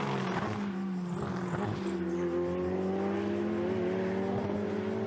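Ferrari Challenge race cars at the Imola circuit climbing uphill, engines droning steadily with rising pitch as they pass, loud and continuous with no talk.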